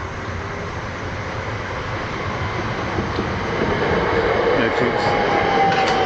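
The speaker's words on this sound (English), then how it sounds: "There's a train coming now. Fast train." A fast train rushes through a level crossing at Portslade, a steady loud roar of wheels and rail noise that swells toward the end, with people talking faintly beneath it.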